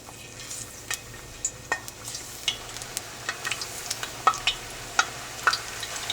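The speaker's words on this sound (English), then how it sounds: "So we'll just fry these off in batches." Eggplant slices frying in batches in oil at about 350 degrees, with a soft steady sizzle broken by frequent sharp pops and crackles and occasional utensil clinks, close.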